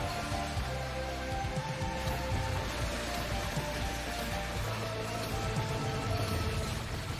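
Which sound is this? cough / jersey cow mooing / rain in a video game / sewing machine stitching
rain in a video game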